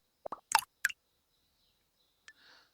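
A short burst of quick plopping, bubbly notification blips, followed after a pause by a single soft chime that fades out; quiet and close.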